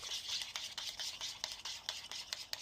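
Extra virgin olive oil and hair being mixed in a container, a soft wet swishing and scraping with small clicks in quick uneven strokes, close and fairly quiet, no talking.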